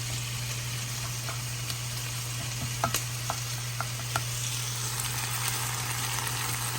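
Sausage fries in a pan, a steady close sizzle under a low hum, while a utensil stirs and chops it with a few light clicks and taps; no talking.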